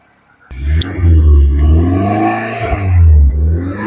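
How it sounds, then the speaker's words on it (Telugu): A 2012 Hyundai i10 Magna petrol car with its bonnet shut revs twice, close and loud, the engine note climbing and falling back to idle between the two pulls, with no voices. "బ్యానెట్ క్లోజ్ చేసుకున్నట్లయితే సౌండ్ ఇది ఫ్రెండ్స్"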